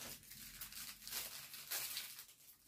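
A package being cut open with scissors, with broadband crinkling and tearing of plastic wrapping that rises and falls in bursts over a few seconds, close and fairly quiet.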